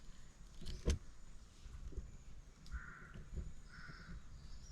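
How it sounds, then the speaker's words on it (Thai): A few distant crow caws ring out in a quiet outdoor setting, with a faint low rumble and a sharp knock early on. "อุ้ยเสียงอีการ้องทักแล้วพี่"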